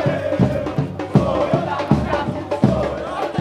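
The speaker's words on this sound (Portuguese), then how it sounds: "a torcida está aqui reunida nas ruas, mostrando que hoje a arquibancada é na rua" Cruzeiro football supporters gather in the street to celebrate a 1-0 win over Atlético, a loud dense crowd roaring and chanting with rhythmic shouted surges and drum-like hits over constant cheering.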